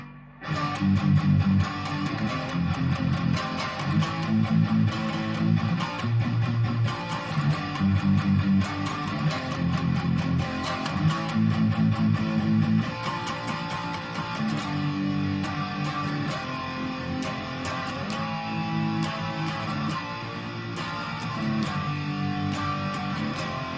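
Distorted electric guitar chugs through a heavy, palm-muted riff from the outro of a song, with steady driving rhythm, loud and continuous, easing slightly toward the end.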